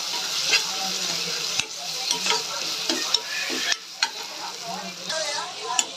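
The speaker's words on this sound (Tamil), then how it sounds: "இப்போ தேவையான அளவு இஞ்சி பூண்டு பேஸ்ட்டு சேர்த்துக்கலாம். சேர்த்துட்டு நல்லா வதக்கிக்கோங்க" Onions with ginger garlic paste sauté for mutton curry, a steady close sizzle punctuated by irregular scraping and tapping as a spoon stirs the pan, with no voices.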